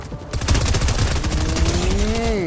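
Loud automatic gunfire in the Fortnite video game rattles in a fast continuous burst, followed by a rising then falling tonal game effect near the end.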